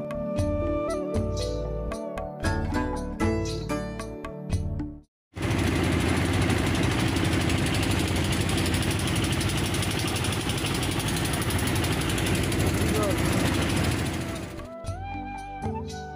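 Motor boat engine idling before departure: a loud, steady mechanical chugging drone holding for about nine seconds, with music-like tonal sound before and after it.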